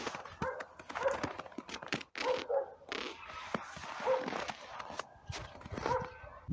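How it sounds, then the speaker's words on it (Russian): Dogs bark repeatedly outdoors on a snowy morning in a Russian village, several short barks scattered through the clip over background ambience, fairly distant. "Лают собаки"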